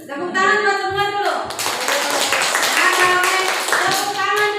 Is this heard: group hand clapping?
yes